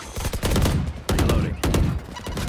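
Odin machine gun fire in the Valorant video game, loud sustained rapid bursts of automatic gunfire broken by short pauses, close and dominant.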